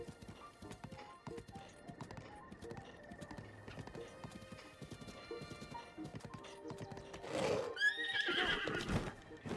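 In the video game Breath of the Wild, a horse's hooves clip-clop steadily, then the horse lets out a loud, close whinny near the end, with game sounds faintly underneath.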